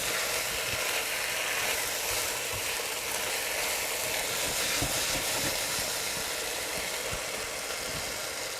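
Shrimp sizzle loudly in a hot pan as they are stirred, a steady hissing fry with small scraping clicks from the stirring, close and continuous with no talking.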